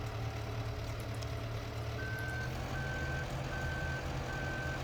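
Steady reversing beeps from a farm vehicle in Farming Simulator 15 sound in an even rhythm over a constant low engine drone, with no talk.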